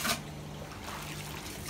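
Water trickles and splashes steadily into the spinner drum of a Hotpoint Supermatic De Luxe 9414 twin-tub washing machine, soft and close, over a faint low hum.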